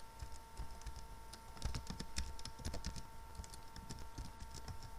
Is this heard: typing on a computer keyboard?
yes